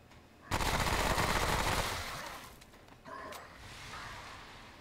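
Rapid automatic gunfire from a gun in Remnant: From The Ashes, a loud dense burst lasting over a second, then trailing off into scattered shots and background game noise.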